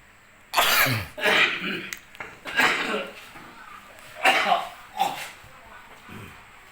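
Several harsh coughs and throat-clearing bursts come in uneven clusters, close by, with short pauses and light background noise between them.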